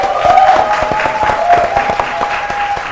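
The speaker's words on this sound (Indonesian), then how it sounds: "tepuk tangan dulu untuk semua" Studio audience at a quiz show claps steadily for three seconds, a dense, close burst of hand claps with an even intensity throughout and a faint sustained tone underneath.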